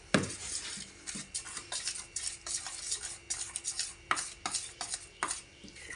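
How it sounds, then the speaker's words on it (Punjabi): A spoon briskly whisks bottle gourd chilla batter in a bowl, producing quick rhythmic clinks and scrapes against the sides, close and fairly quiet with no talking. "ਉੰਨੀ ਦੇਰ ਤੱਕ ਆਪਾਂ ਘੋਲ ਨੂੰ ਚੰਗੀ ਤਰ੍ਹਾਂ ਘੋਲ ਲੈਂਦੇ ਹਾਂ"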